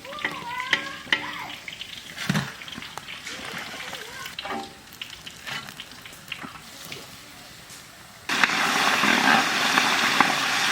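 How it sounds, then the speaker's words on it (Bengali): Katla fish fries in hot oil with a steady sizzle, joined by clinks and stirring, while voices talk over it; the sizzling swells louder and denser near the end. "কি সুন্দর আরামে বসে বসে মাছ ভাজা নামাচ্ছি।"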